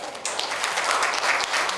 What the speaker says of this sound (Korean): 한번 박수 한번 치고 갈까요?